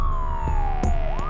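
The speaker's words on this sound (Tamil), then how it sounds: "ஓஎஸ் கார்டன் உள்ளே இருந்து ஒரு ஆம்புலன்ஸ் அலறல் சத்தத்தோட வெளியே வருது" An ambulance siren wails at night as the vehicle pulls out of a garden compound, a single loud tone sliding steadily downward before swinging back up, with a few sharp knocks and bumps over a low rumble.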